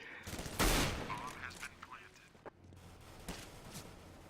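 Gunfire from a video game shooter: one loud burst of shots near the start, then fainter scattered pops, while players talk casually over the game audio.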